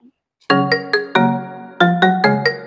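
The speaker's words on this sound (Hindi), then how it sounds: "फोन आ रहा है किसी का" A phone ringtone for an incoming call plays a loud, bright electronic melody of quick chiming notes in short rhythmic phrases, heard alone and close.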